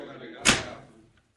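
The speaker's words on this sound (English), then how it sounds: "Shut up until I close the door." An old radio western plays a door being shut, a single sharp slam that rings briefly and dies away after a moment of quiet room tone.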